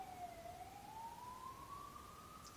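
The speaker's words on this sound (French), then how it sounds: "Vous entendez l'ambulance au loin?" A distant ambulance siren wails faintly, one long rising tone slowly climbing in pitch, heard alone at low level with no voices over it.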